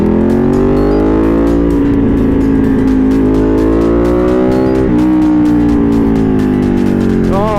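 Ducati 1199 Panigale motorcycle engine revving loud and close, its harmonic pitch rising and falling through several throttle blips, with brief voice sounds in the background.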